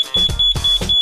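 An alarm system built into a security gate emits a loud, high-pitched tone pulsing in quick repeated beeps, about four bursts in a second.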